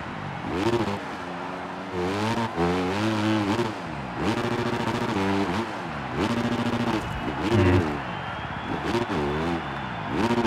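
Dirt bike engine in the Monster Energy Supercross 2025 video game, a privateer-style motocross bike held in third gear, revving loudly in repeated rising and falling surges as it rides through the track, with a brief voice in the background.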